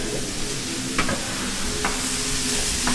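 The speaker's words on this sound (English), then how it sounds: "I am making stir fried veggies." Vegetables stir-frying in a pan that burns food quickly, a steady hiss with a few sharp scrape-like clicks from a utensil, no talking.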